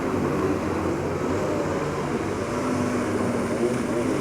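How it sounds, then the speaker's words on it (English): Powerful racing jet skis on a lake at Llano, Texas, give off a continuous engine drone, fairly distant and steady, with no clear pass-by peak. "they have some super powerful jet skis"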